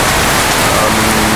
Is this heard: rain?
yes